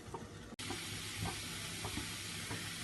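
Besan halwa roasting with milk in a pan sends up a continuous close hiss and sizzle, with soft periodic scraping strokes from stirring and one abrupt short break near the start.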